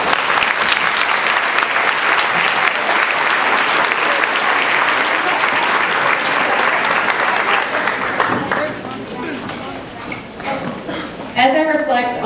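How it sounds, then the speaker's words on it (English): A crowd claps loudly for 5th grade graduates at an elementary school promotion ceremony, sustained dense applause that fades toward the end before a voice begins to speak. "have a round of applause for our graduates"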